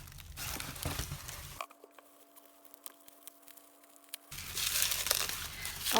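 Paper wrapped around a leather journal is crinkled and torn in close, busy bursts, broken by a quieter stretch of faint rustles and ticks.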